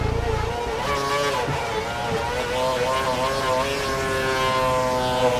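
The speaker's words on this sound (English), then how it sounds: "It's amazing how the engine recovers as soon as I go into the pit lane." Formula 1 car engine in the F1 2012 racing game, with a steady, droning harmonic whine of changing pitch that runs continuously and fairly loud throughout.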